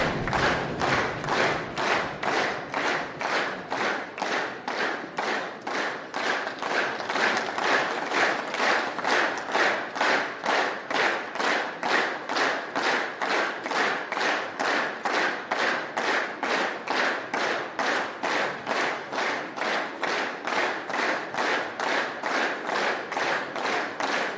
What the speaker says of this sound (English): Let's listen in to that enthusiastic applause.